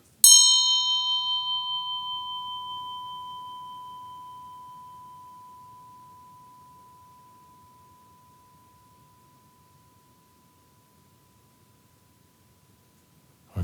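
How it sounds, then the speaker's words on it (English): A single meditation bell struck once, its clear pure tone ringing out and fading slowly over more than ten seconds in an otherwise quiet room. "try to see if your memory corresponds to another one of the sounds of the bell"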